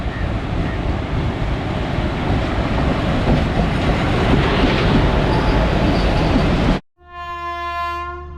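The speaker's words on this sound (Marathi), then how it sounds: "चला ट्रेन आली आहे" A passenger train arriving in the Konkan rumbles loudly and steadily up close for several seconds, then after a brief cut a sustained horn-like tone sounds.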